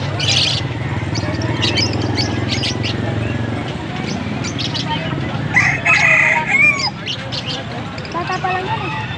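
Chickens and roosters at a Pampanga market, with one rooster crowing clearly over a steady background of market chatter and bustle.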